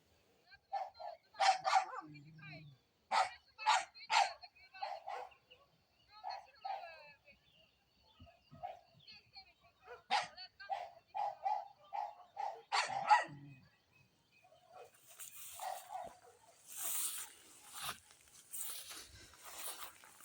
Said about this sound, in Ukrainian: Кажу, собаку то гоните.